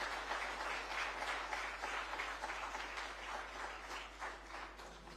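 Sustained audience applause at the Money Control Awards, a steady dense wash of clapping for the Minister lasting throughout without a break.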